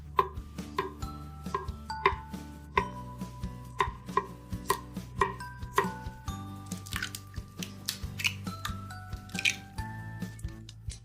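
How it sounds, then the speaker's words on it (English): A knife chops broccoli into small pieces on a cutting board, giving a fast, steady run of close crisp knocks and clicks, with no talking. "Cut the broccoli into small pieces."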